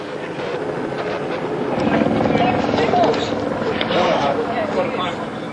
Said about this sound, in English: The helicopter guides him to the exact spot.